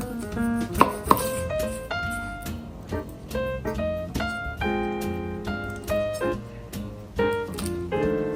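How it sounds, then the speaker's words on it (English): A knife chops sliced onion on a cutting board in quick repeated strikes, each one a sharp close knock with a short ringing tail, keeping an uneven rhythm for several seconds. "Peel and sliced onion."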